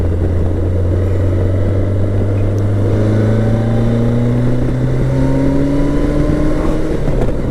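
A BMW K1100LT motorcycle accelerates steadily along a road, its engine note climbing in pitch through the gears as a continuous, close, loud drone with rising harmonics and constant wind rush.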